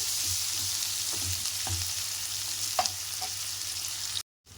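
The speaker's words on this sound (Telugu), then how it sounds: "అంతా కలిపేసుకొని మూత పెట్టుకొని చికెన్ మంచిగా ఉడికే వరకు ఫ్రై అయ్యే వరకు ఫ్రై చేసుకోవాలండి" Chicken for gongura chicken fries in a covered pan, giving a steady close sizzle with a few soft pops and stirring knocks before the sound cuts out abruptly near the end.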